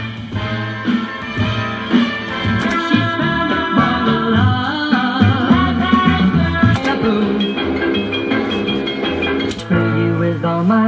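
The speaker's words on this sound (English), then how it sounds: "That nice bright sound you're hearing from the 8-track" Music plays from an 8-track tape in a 1977 Mercury Grand Marquis AM-FM-8 track player, full and bright with steady rhythm and melody throughout, uninterrupted by talk.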